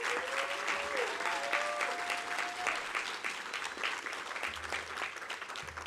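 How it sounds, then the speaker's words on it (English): Sustained applause from an evening alumni panel audience, many hands clapping at moderate distance with a faint murmur of voices underneath. "give yourself a round of applause"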